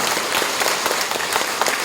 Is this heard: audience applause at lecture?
yes